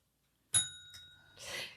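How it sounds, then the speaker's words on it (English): A small bell is dinged once, giving a bright, sharp ring that rings on briefly and fades, followed by a faint second tap and some soft noise. "Can we ding the bell"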